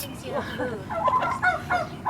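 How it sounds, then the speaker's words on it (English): A turkey gobbles close by at a farm animal sanctuary in Acton, California, in a rapid, warbling burst of throaty calls. "We also have turkeys here. Like this is turkey."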